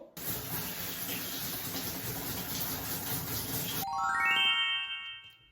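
Cold tap water running steadily while dyed rose-pink hair is rinsed, a close, continuous gush that stops abruptly and gives way to a brief ringing chime.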